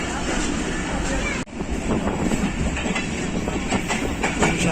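Pakistan Railways Shah Hussain Express train running at speed past a skipped station, a steady loud rumble of wheels and carriages with a brief dip, then continuous rolling noise with rhythmic rail clatter.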